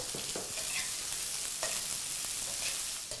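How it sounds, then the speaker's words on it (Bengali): Half a cup of chopped onion fries in a pan for kashundi rice, a steady hiss of sizzling with a few light stirring taps, close and fairly quiet. "এখন আমি এতে দেব পেঁয়াজ কুচি। 1/2 কাপের পেঁয়াজ কুচি দেব।"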